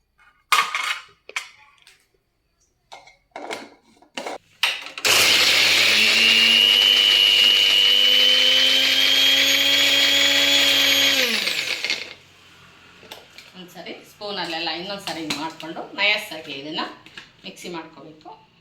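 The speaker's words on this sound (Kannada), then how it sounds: "ಕೊತ್ತಂಬರಿ ಸೊಪ್ಪು ಶುಂಠಿ ಬೆಳ್ಳುಳ್ಳಿ ಮೆಣಸಿನ್ಕಾಯಿ ಅದನ್ನೆಲ್ಲನೂ ಸೇರಿಸಿ ಬ್ಲೆಂಡ್ ಮಾಡ್ಕೊಳ್ಳೋಣ" An electric kitchen blender grinds coriander leaves, ginger, garlic and green chili in one loud, steady whirring run of several seconds with a faintly rising pitch, then stops abruptly. A person talks before and after, with light clatter around it.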